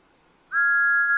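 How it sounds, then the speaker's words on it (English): Thomas the Tank Engine gives one short, sad toot of his whistle: a single clear, steady pure tone that starts abruptly after a brief quiet and holds to the end. "Thomas gave one sad toot of his whistle and slowly pulled away."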